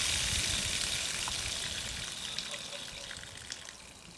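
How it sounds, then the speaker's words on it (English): Water spraying out of a Hardless NG3 water filter unit as it is depressurized, a hissing gush that starts strong and slowly tapers over a few seconds, close by and heard alone. "let the water come out"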